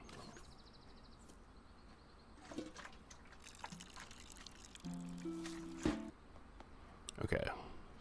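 In the puzzle game Botany Manor, water is poured over soil where a seed has just been planted, a soft trickling with a few drips. It is faint and intermittent beneath a speaking voice and light game sounds.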